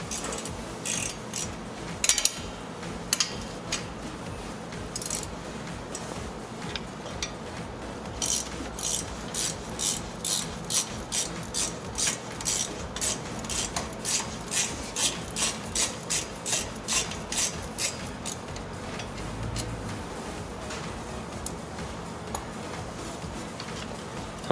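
A ratchet wrench loosens a 13mm brake caliper bolt on a Dodge, giving close, rapid bursts of clicks in a steady series of strokes, with some scraping metal handling between them and no talking.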